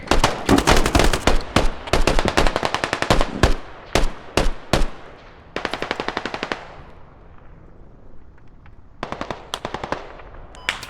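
Sustained automatic gunfire in the military shooter Squad, loud and close, coming in long rapid bursts separated by short pauses, with fainter distant shots trailing off between volleys.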